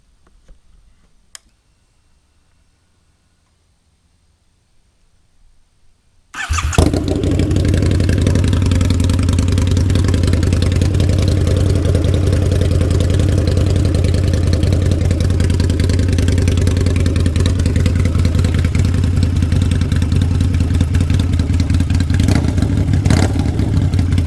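After a quiet stretch, a Harley-Davidson V-Rod motorcycle engine, just fitted with a new water pump, fires up abruptly and settles into a loud, steady, ticking idle that continues to the end.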